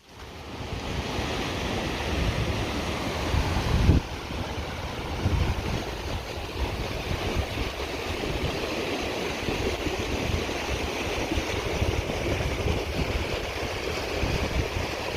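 Steady, loud water rushing and splashing as a hiker wades through a stream on the Kungsleden trail in cold, wet, windy weather, with wind noise on the microphone and no voices.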